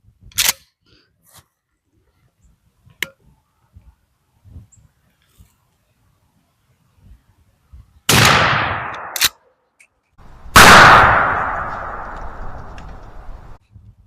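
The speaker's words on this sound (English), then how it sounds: "here's the 5th and final shot with the Federal Powershok double-aught buck" A 12 gauge shotgun fires Federal Powershok 00 buckshot outdoors, two sharp, loud blasts with long decaying echoes, separated by a brief pause and preceded by scattered faint handling clicks.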